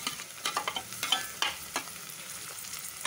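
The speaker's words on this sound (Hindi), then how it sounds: "अब हम इसे मिक्स कर लेते हैं।" Onion and tomato are stirred and fried for fried rice, with quick, close spatula scrapes over a continuous soft sizzle, and no voices.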